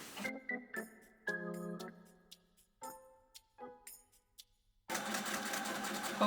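A sewing machine stitches a 1950s Walkaway Dress in bursts, several short runs and stops before one long steady whir at the end, close and fairly loud.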